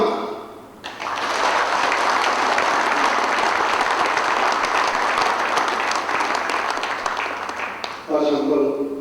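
Sustained applause from the audience at the inauguration of the Korean Wrestling Association president, a dense, loud roar of clapping lasting several seconds, with a voice speaking briefly at the start and again as it fades.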